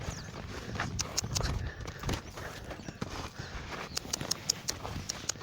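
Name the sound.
horse hooves stepping as it is taught to walk sideways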